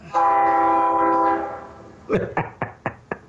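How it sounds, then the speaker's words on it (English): A train horn blows one long, sustained tonal blast, then a series of short rhythmic clunks and clacks follow, like rail cars passing, fairly loud and clear. "Choo choo. Oh, Ice Train"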